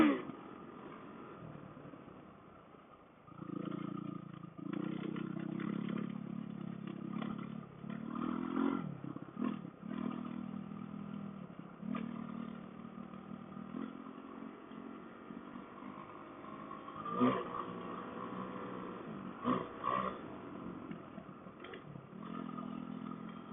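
Kawasaki KLX450R dirt bike on a loose night trail ride, its engine droning and rising in revs for long stretches with rattles and scrapes from the ground, heard from on the rider, muffled and slightly distant.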